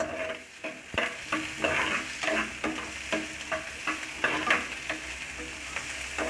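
Prawns sauté in a pan for a ridge gourd stir-fry, giving a steady close sizzle broken by sharp scraping stirs at irregular intervals, with no voices.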